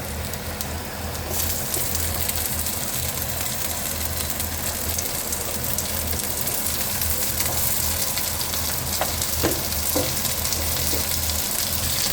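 Chopped potatoes frying in a pan with golden-browned onions for a kanavai curry, a loud continuous sizzle with a low hum beneath and a few spatula taps near the end.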